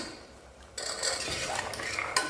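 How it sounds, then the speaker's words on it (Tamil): Soaked black chickpeas are tipped into a pan of sautéed tomato and stirred, giving a sudden burst of scraping and clattering that carries on as a steady, close stirring noise. "இப்போ ஊற வச்சு வச்சுருக்கிற சுண்டலை சேர்த்துக்கிடணும்"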